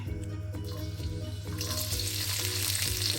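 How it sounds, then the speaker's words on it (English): Garlic hits hot oil in a pot for pork adobo and sets off a loud, steady sizzle that swells to a brighter, fuller hiss partway through, with no voices. "I'll add the garlic."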